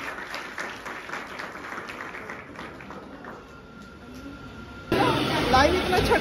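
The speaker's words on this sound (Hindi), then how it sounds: "एक का जोरदार ताली कमर में बजा दी।" Backstage, a group claps for a few seconds. The sound is fairly faint and mixed with murmuring voices, then a louder burst of noise and chatter takes over near the end.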